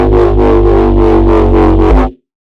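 A loud, buzzy synth bass, saturated by soft clipping, holds one note with a pulsing, wobbling tone for about two seconds, then cuts off into silence.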